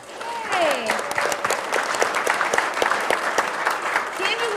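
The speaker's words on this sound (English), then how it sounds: "We can give him a round of applause." Audience applause at an annual juried art competition, a burst of lively clapping sustained across the moment with scattered cheers and voices mixed in.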